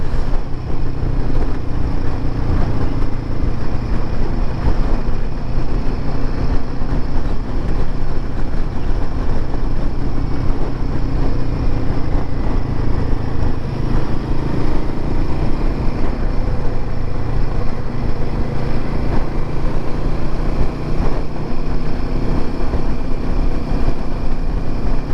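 A Royal Enfield Himalayan 450 motorcycle riding on a winding road, its engine and rushing wind forming a steady, loud, unbroken drone throughout with no talking.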